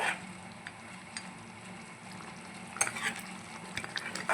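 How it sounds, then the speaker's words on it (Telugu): Country chicken curry stirred in a pan after water is added, a low simmering bubble with scattered scraping and clinks of a spoon against the pan, quiet and close; no talking. "ఒకసారి తిప్పుదాం ఫ్రెండ్స్."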